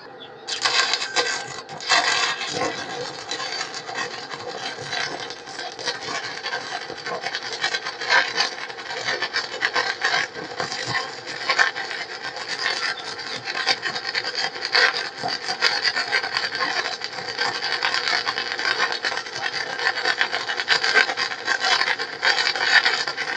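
Arc welding with a 6011 electrode on a root pass, a continuous loud crackling hiss with dense irregular sputtering that holds steady for over twenty seconds, close up and without talk.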